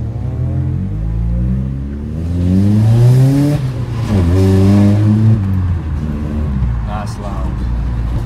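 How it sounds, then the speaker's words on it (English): Opel Astra H with a Sportex exhaust and no backbox or silencer, driving with a deep, loud droning note that climbs through gears as it accelerates, heard from nearby, with talk over it. "So let's test out the exhaust. We're going to drive up to get a drink now and just see how it sounds."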